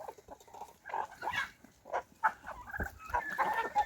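Several geese honk and cackle in short, irregular bursts nearby in a barn, a restless chattering of farm fowl.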